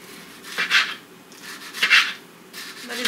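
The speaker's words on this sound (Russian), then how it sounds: "Болгарский перец нарезаем тонкой соломкой." Knife cutting bell pepper into thin strips on a board, a few soft scraping slices with short pauses, close up and moderately quiet.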